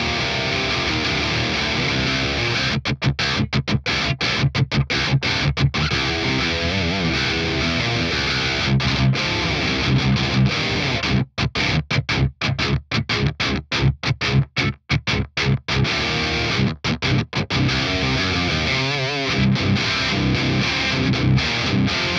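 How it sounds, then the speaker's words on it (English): Electric guitar through a BOSS OD-200 hybrid drive set for multi-band distortion with a tight noise gate, playing loud, dense, sustained crunchy riffs that are abruptly choked into silence many times. "the hybrid drive is, I think it's basically like a multi-band distortion"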